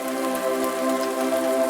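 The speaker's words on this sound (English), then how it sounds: "The rain is nice though, says VFig." Steady rain ambience in a video game, a continuous soft patter layered with a sustained tonal drone, even and unbroken throughout with no voices.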